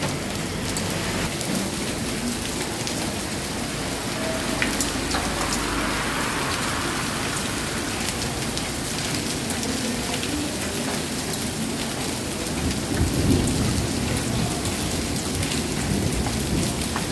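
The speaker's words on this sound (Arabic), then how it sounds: "غادي نوقف اخوتي حتى تسالات هاد تنقص الشتا" Heavy rain pours steadily during a thunderstorm, a dense, loud, unbroken hiss of drops drumming on surfaces, with low rumbles of thunder swelling beneath it and no voices.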